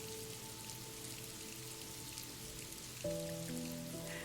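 Rain falls on a rooftop in a soft, steady, faint patter, and gentle sustained musical tones join in partway through.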